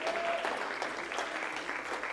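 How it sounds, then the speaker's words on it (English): A church congregation at a Sunday morning service clapping in praise, a steady even wash of many hands close around, continuing without a break. "give him another clap offering of praise"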